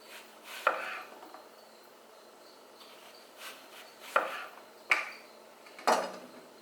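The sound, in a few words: knife cutting through tomatoes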